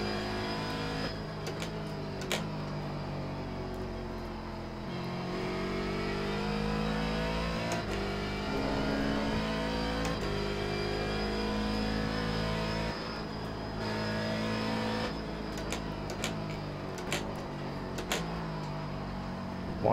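A C7 Daytona Prototype race car engine in the iRacing sim at Mosport revs and drops repeatedly through gear shifts and braking, loud and continuous for the whole stretch.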